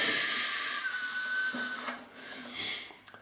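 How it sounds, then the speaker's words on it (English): A power tool cuts wood around the edges of a guitar body during a restoration, giving a whining, shifting tone that rises and falls in short passes, fairly close and moderately quiet. "you go around the edges, thus"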